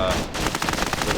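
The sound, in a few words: SPAR-M8 gunfire in Tacticool video game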